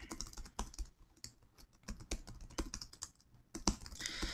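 Rapid keystrokes on a computer keyboard as a login email and password are typed, irregular clicks and short bursts running throughout, close and fairly quiet with no voices.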